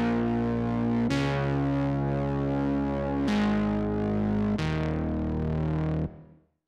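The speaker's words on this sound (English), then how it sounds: "the synth bass is only in like the intro when the band comes in and the choruses" A fuzzy, distorted synth bass plays sustained notes with a few pitch changes, thick and loud, with a reverb tail ringing out at the end.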